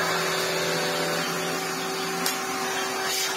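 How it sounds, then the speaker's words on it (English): A cylinder vacuum cleaner runs with its hose detached, a loud, steady whirring drone with a constant motor whine close by and no voices. "all of a sudden we have a cylinder vacuum cleaner."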